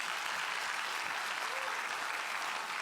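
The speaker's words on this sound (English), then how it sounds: "I'll ask you to once again join me in applause for Dr." Applause from a town hall audience on Medicaid, a steady wash of many hands clapping together that stays quite soft and continuous, as if heard from some distance, with no voices standing out.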